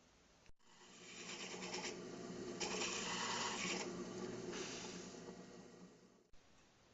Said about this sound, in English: I'm going to drill down with a 1 inch hole saw